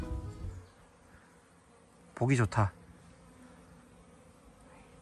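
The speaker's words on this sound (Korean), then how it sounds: "이 벌소리. 완전 자연이구만." Honeybees swarm over a natural pond untouched by people, a faint steady buzzing throughout, briefly covered by a short spoken remark in the middle.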